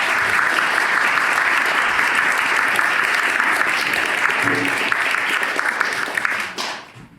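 Loud, sustained audience applause welcoming an author at a library book discussion, a dense, close wash of clapping that holds steady before trailing off at the end.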